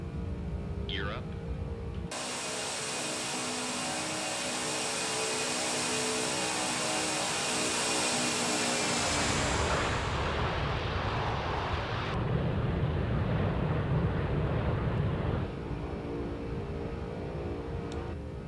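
A Boeing 747-200 climbing out after takeoff in the flight simulator X-Plane 11, a steady loud roar of jet engines that shifts in tone partway through, with some talk.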